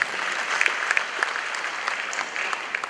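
An audience at a Supreme Court anniversary lecture in Manhyia Palace applauds the Chief Justice, a dense, even patter of clapping from a large crowd heard at some distance.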